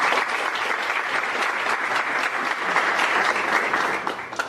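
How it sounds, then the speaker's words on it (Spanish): Sustained audience applause at an evening book-presentation and constitutional-law talk, dense steady clapping filling the room at close range, with no pauses and no speech over it. "Recibamos al doctor Rodrigo y a todos los autores con un gran aplauso"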